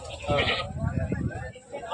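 A black goat bleats loudly in a wavering cry near the start, then people talk over low background noise while bargaining over its sale.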